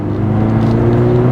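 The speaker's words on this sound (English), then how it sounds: "And now merging a highway to see the comfort of this BMW 330i." A BMW 330i in comfort mode accelerates while merging onto a highway, heard from inside the cabin as a steady low engine drone with a faint whir. The sound is brief and fairly loud.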